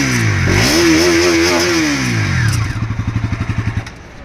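An NS motorcycle engine revs up close, the pitch climbing and falling in a loud sweep, then settling into a fast, pulsing idle.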